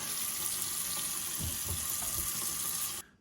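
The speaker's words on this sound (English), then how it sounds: "Next, we wash our potatoes." Potatoes being washed under a running kitchen tap: a steady, close hiss and splash of water pouring into the sink, with faint knocks of the potatoes being handled, stopping abruptly at the end.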